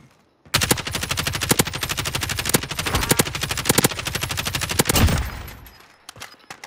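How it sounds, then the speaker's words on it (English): Sustained automatic gunfire in Call of Duty: Modern Warfare, a rapid, loud burst of rounds running for several seconds, then a few scattered shots as it tapers off, with no talking. "He was shooting at somebody over here."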